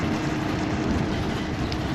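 Train rolling along a railroad track in open country, a steady, loud rumble with a dense rattling roar that holds constant from start to finish, no voices.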